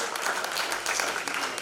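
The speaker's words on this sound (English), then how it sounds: "give a big round of applause for all of you," An audience claps at a university business forum, a short burst of dense, even applause filling the room at moderate loudness.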